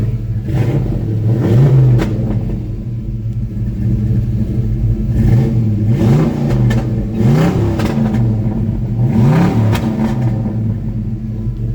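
A nitrous small-block car engine revs repeatedly in rising surges to about 3,300 rpm over a steady idle rumble, loud and close, with no talking.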